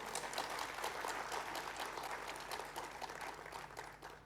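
Audience clapping at a Bharat Ratna Dr. B. R. Ambedkar Jayanti lecture and prize distribution, a dense, steady wash of many hands filling the hall throughout, easing slightly toward the end, with no talk over it.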